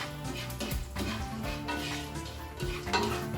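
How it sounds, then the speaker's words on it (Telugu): Whole spices—cumin, bay leaf, shahi jeera, cloves and cinnamon—frying in ghee in a pan, a continuous close sizzle with scraping stirs and occasional metallic clinks of the spoon against the vessel. "ఇవన్నీ మసాలాస్ ఇవి వేసుకున్న తర్వాత కొంచెం ఫ్రై చేసుకోండి"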